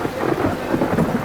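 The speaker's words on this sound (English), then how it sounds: "Man, that lightning gonna bust right on through the roof." Heavy rain pours steadily with rolling thunder rumbling beneath it during a loud thunderstorm, close and continuous with no talk.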